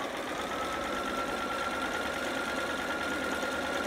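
A sewing machine stitches and backstitches fabric with a steady, close mechanical whirr that runs unbroken for a few seconds.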